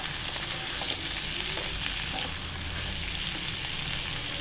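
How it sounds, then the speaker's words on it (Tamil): Masala frying in oil for a chicken curry, a dense close sizzle with occasional stirring clinks and scrapes, steady throughout without any voices. "பாருங்கள் மசாலா நல்லா வதங்கியாச்சு."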